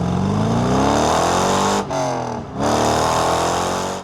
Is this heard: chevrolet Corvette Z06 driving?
yes